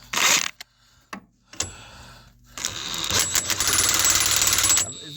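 Impact gun driving a bolt home on a 2010 Mazda 3 rear shock, after a few brief clanks of tool handling, then a sustained loud rattling burst of about two seconds that cuts off sharply.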